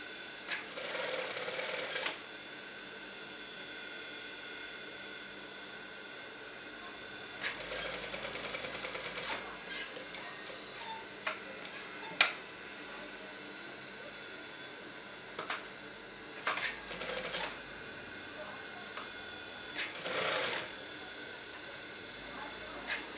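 A sewing machine stitches a Saudi-style robe in several short whirring bursts, separated by quieter pauses with faint handling noise.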